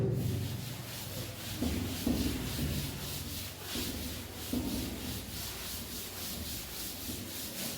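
Writing is rubbed off a board during a maths lesson with an eraser or duster. The close, dry scrubbing comes in repeated back-and-forth strokes, with a few firmer swipes along the way.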